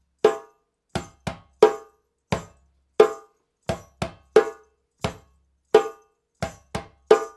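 Beginner djembe accompaniment mixing deep bass strokes and ringing tone strokes in a steady repeating pattern, each hit crisp and distinct with brief gaps, played solo and close.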